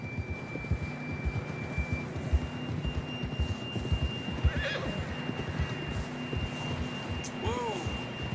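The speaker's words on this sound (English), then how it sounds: "John was riding that horse when we left Blackwater." Steady hoofbeats clip-clop under a low hum, with a horse giving a short whinny near the end in Red Dead Redemption 2; the sound is moderate and fairly close.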